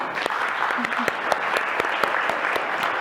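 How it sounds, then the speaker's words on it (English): Conference audience applauding panelists at an ASEAN-OECD regulatory plenary session, steady dense clapping with sharp individual claps standing out throughout. "A round of applause for them."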